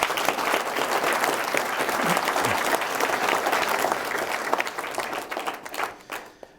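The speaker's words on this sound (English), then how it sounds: "I think they do deserve a round of applause." Wedding guests applauding during the speeches at a Baptist church ceremony, full steady clapping from the gathered crowd that thins and fades toward the end.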